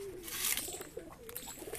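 Full jack high-flying pigeons in a breeding cage give faint, low cooing over a steady, noisy background.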